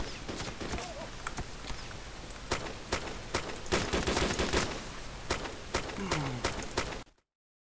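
Rapid bursts of gunfire from many players crackle across a Wasteland firefight in sharp, repeated cracks and volleys, loud and dense for about seven seconds before cutting off abruptly.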